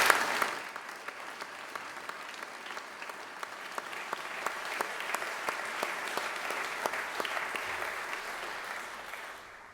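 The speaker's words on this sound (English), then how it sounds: "And I'll give you a round of applause again." Applause from a congregation in a school chapel, starting with a sharp clap and swelling into a reverberant patter of many hands with distinct individual claps, gradually thinning toward the end.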